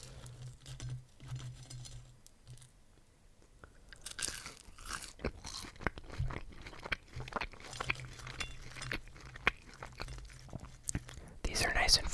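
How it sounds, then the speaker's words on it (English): Fresh fries eaten close to the mic, crisp crunchy bites and chewing scattered over several seconds, with soft whispering and mouth noises in between. "have some fries now."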